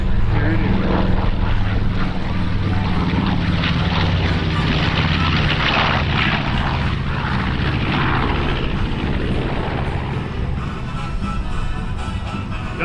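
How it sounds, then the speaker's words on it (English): A B-25 bomber touches down on a runway at an air show, its loud propeller engines roaring steadily throughout as an announcer speaks over the public address. "Panchito touching down on the runway from your right."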